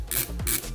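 A screw being unscrewed from a PC part while fitting an MSI MAG CORELIQUID A13 liquid cooler, giving a short, close, loud scraping, ratcheting sound, two gritty strokes in under a second.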